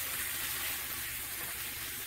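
Scallops, imitation crab meat and catfish, still half frozen, sear in a hot pan, giving a steady, broad sizzling hiss that holds evenly throughout with no talking.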